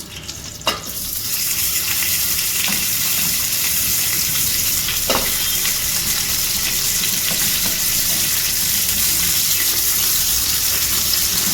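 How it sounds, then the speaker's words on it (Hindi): Bones and trotters for haddi guddi shorba go into a hot pot, setting off a loud, continuous close sizzle and frying hiss, with a few soft knocks and clinks early on. "ये जो हड्डियाँ गुड्डियाँ हैं, ये हम इसमें आराम आराम से डाल देते हैं।"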